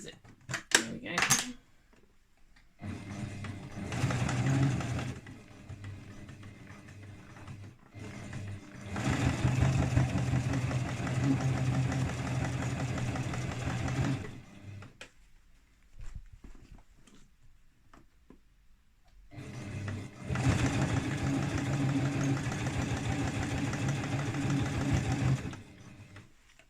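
A sewing machine stitches a skirt seam along the waistband near the zip, running in three long steady whirring bursts separated by pauses, close and fairly loud, with a person speaking between runs.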